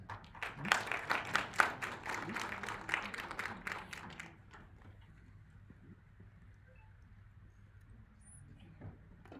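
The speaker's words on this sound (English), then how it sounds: "Can we please give a round of applause," A conference audience at a university launch event gives a short burst of clapping lasting a few seconds, fairly close and uneven, then it stops abruptly, leaving a quiet room tone.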